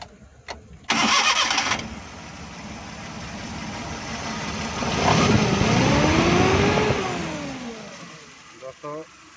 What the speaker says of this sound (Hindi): गाड़ी स्टार्ट करते हैं।